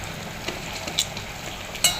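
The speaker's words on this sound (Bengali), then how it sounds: "এটা চটকাচ্ছি" Boiled potatoes and tomato are mashed in a pan, giving a quiet sizzle with a few soft scrapes and taps of the utensil against the pan.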